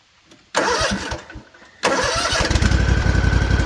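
A Kawasaki FR730V lawn mower engine cranks, sputters, then catches and settles into a loud, steady running chug close by.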